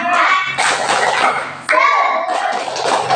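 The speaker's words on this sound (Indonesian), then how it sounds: "Tepuk semangat." Children in a class shout a tepuk semangat clapping chant, voices calling out together over quick bursts of claps in two loud phrases.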